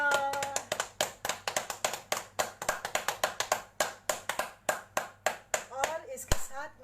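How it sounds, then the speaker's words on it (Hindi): Audience applauding at a yoga and meditation session, with a rhythmic run of distinct, fairly close hand claps that settle into a steady beat; a voice speaks briefly near the start. "आपके अपने लिए और आयोजकों के लिए तालियां"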